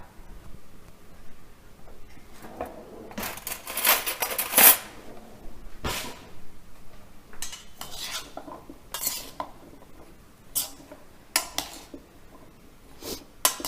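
Butternut squash being tossed with a generous pour of olive oil in a bowl, with repeated clinks and scrapes of a utensil against the dish in irregular bursts, close and moderately loud, no talking.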